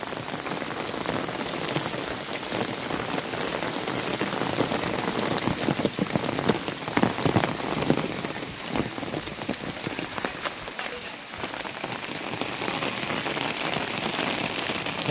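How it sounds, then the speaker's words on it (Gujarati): Heavy monsoon rain pours steadily in a village, a dense continuous hiss of drops on surfaces, loud and unbroken throughout with no voices. "આજે વરસાદ જ રહ્યો છે"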